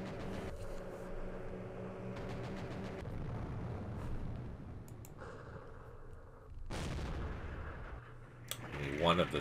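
Airstrike explosions in the Campaign Series war game arrive as low, dull booms and rumbling blasts, fairly faint and distant, layered over a steady background hum with sporadic game sounds.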